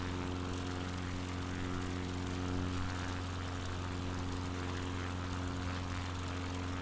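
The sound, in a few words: propeller plane engine in flight, Microsoft Flight Simulator 2020 video game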